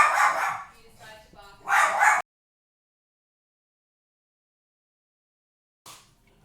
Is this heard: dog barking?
yes